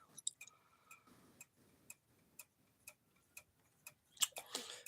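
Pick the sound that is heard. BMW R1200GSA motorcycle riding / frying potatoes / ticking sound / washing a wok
ticking sound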